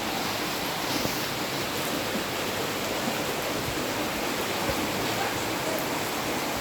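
Broadband rushing of flood water from the Karkhasa dam pouring through the streets of Hazara Town block 2 during rain, a steady close roar with no talk.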